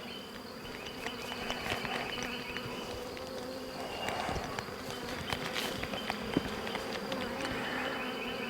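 Honey bees drone steadily around an open hive with a full honey super, a dense continuous buzz with individual bees passing close to the microphone now and then.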